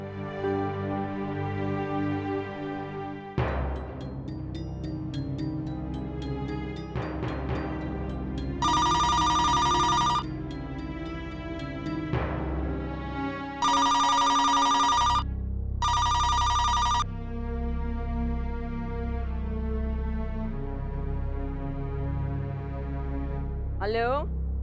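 A landline telephone in a haveli rings in repeated electronic bursts while dramatic background music plays and voices speak between the rings.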